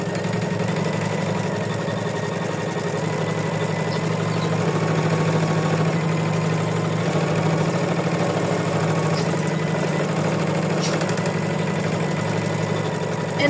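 Embroidery machine stitching an in-the-hoop tulip design, a steady, continuous mechanical hum with a rapid needle rhythm running unbroken throughout, close and moderately loud.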